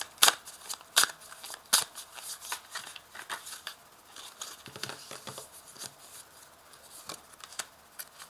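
Tarot cards being drawn and laid out on a table, with soft papery shuffles, crisp snaps and sliding card sounds at an irregular pace, quiet and close with no talking.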